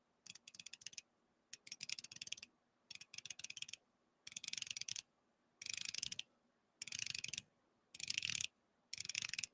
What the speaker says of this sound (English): You want to hear some bezel clicks?